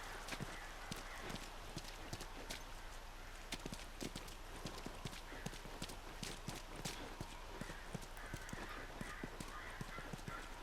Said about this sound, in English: Hey, you left the horse behind.